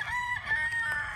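A rooster crows nearby, its drawn-out call rising over a low background rumble for a brief moment.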